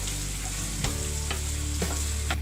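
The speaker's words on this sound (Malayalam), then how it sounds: "ഉള്ളി നന്നായി വഴണ്ട് വരണം." Onions frying in hot oil with chilies while being stirred in a pan, a loud continuous sizzle broken by a few sharp scrapes and knocks of the spoon against the pan.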